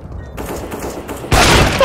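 Burst of gunfire in the video game CSGO, a loud dense volley erupting suddenly near the end after quieter ambient game noise, close and sharp with no talk over it.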